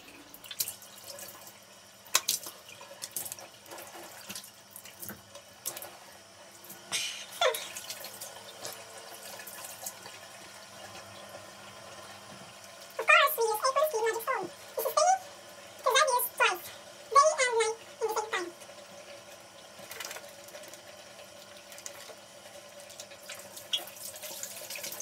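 Tap water runs into a sink while a face is rinsed, with splashing and intermittent water bursts; a cat meows several times midway.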